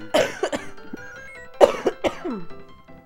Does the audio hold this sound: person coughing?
yes